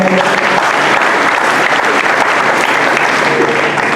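A church congregation breaks into loud, sustained applause, a dense, even wash of many hands clapping together with no break and no clear speech.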